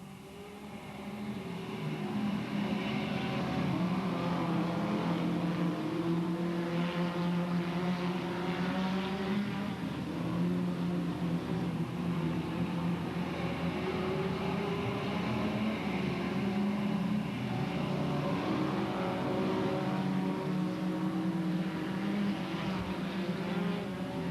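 Stock cars race bumper to bumper into a corner at Delta Speedway, a steady loud engine roar from several cars blending into one continuous drone with a distant crowd-like wash, no talk over it.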